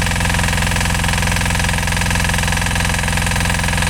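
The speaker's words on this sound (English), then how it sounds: "But it sounds fine and runs fine." A Yanmar YDP20N single-cylinder diesel engine, bought at auction as a non-runner, runs loud and close with a fast, even, thudding chug that holds steady throughout.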